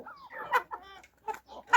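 Several farmyard chickens cluck close by in short, uneven bursts, with a few sharper squawks between softer murmurs.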